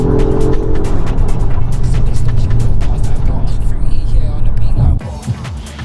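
Volvo S60 Recharge plug-in hybrid engine running loud and steady close by, a low rumbling drone that holds for about five seconds before dropping off sharply near the end.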